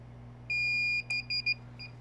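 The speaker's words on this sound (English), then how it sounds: "and it'll start beeping." DJI O3 FPV quadcopter radio controller beeping in bind mode after its power button is held down: one long electronic tone followed by several short beeps, clear and close over a low steady hum.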